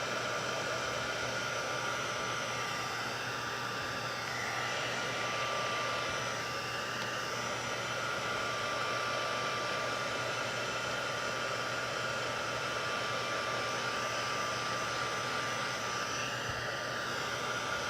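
Heat embossing tool drying embossing powder on a stamped card, a steady loud continuous blowing hiss with a constant hum, uninterrupted for the whole stretch and with no talking.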